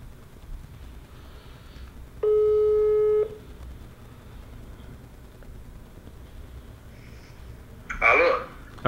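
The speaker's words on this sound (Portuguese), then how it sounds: "Já tá chamando já." A phone call ringback tone sounds once for about a second, steady and clear over faint room noise, followed later by a short rustle or handling noise.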